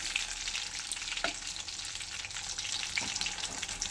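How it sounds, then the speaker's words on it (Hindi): Green chillies coated in batter for street-style mirchi bhaji deep frying in hot oil, a dense continuous bubbling sizzle heard close with a couple of faint clinks, no voices. "देखिए इसे ही इस तरीके से फ्राई कर लेना है"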